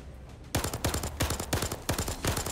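Rapid automatic gunfire from a weapon in the VR shooter Zero Caliber, a dense string of close, loud shots with short gaps between bursts after a brief quiet start.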